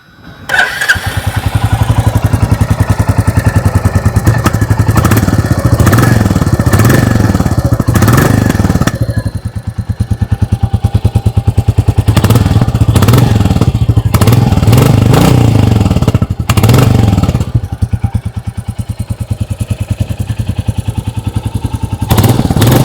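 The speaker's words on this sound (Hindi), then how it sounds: "आइए अब सुन लेते हैं इस बाइक की एग्जॉस्ट नोट।" A 2025 Royal Enfield Bullet 350 Battalion Black motorcycle idles loudly up close, its exhaust burbling steadily with repeated throttle blips revving the engine up and back down.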